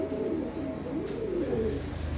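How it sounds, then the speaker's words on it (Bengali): A pair of Maxi pigeons coo in a low, steady, continuous murmur that fills the whole stretch, with a faint chirp or two above it. "এই যে এখানে এক পেয়ার মাক্সি কবুতর দিলাম"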